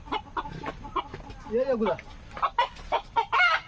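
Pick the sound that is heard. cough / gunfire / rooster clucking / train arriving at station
rooster clucking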